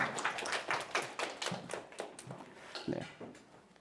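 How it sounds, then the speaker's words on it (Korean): Scattered hand claps from a small audience at a Korean university TED-style talk welcoming an emoticon artist, individual claps sounding distinct and uneven, fairly close, with no continuous roar. "박수 부탁드립니다."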